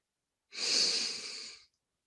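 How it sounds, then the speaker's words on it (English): A single deep inhalation during a guided breathing exercise, one long steady airy breath drawn in for about a second, close and clear with no talking. "Deep breathing in again for 3"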